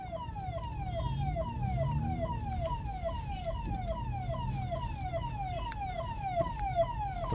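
An ambulance siren wails in fast, repeating descending sweeps, a regular cycle roughly every half second, heard at moderate distance over a low traffic rumble with no talking.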